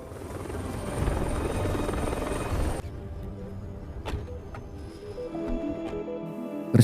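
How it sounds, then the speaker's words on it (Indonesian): A helicopter flies with a loud, dense rotor roar that ends abruptly, followed by quieter clicks and mechanical sounds, in a scene from a disaster film about a mountain and tsunami in Europe. "dengan menggunakan helikopter, Christian dan teman-temannya bergegas melihat apa yang sebenarnya terjadi pada gunung tersebut"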